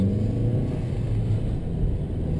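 A 2012 Chevrolet Cruze fitted with a K&N intake runs its engine with a low, steady rumbling hum and a faint whine, close and even, without any speech.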